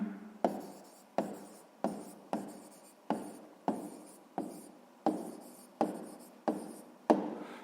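Pen writing out an answer by hand on paper during a sixth-grade maths exercise: about a dozen repeated scratchy strokes in a steady rhythm, each a sharp onset fading quickly, close and fairly quiet, with no talking.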